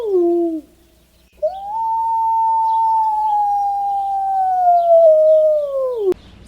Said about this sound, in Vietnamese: Con sói.